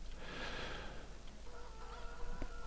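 Chickens at a chicken farm in the video game Farming Simulator 15 cluck softly over a steady ambient hiss, with a brief sharp click near the end.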